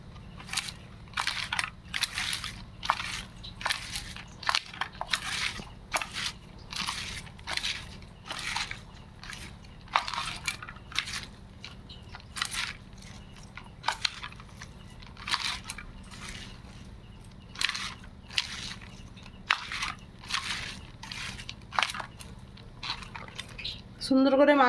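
Washed spring onions, carrots and cabbage squeezed and rubbed with salt by hand, giving repeated wet crunching squishes in a steady rhythm, close and fairly quiet.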